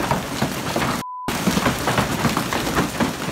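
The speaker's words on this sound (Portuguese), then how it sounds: "trata-se apenas de uma chuva de granizo que foi registrada no Colorado em agosto de" Heavy hailstorm in Colorado, with ping-pong-ball-sized hail pelting a lake, a dense continuous hiss and patter of impacts that stays loud throughout, broken by one very short gap of silence.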